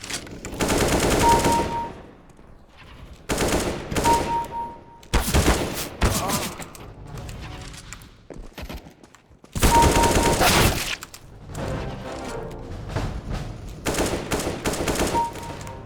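Bursts of automatic gunfire from a CS:GO match come in loud, dense volleys separated by short quiet gaps, with rapid repeated shots stacking into fusillades.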